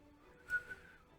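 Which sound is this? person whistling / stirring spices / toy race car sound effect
person whistling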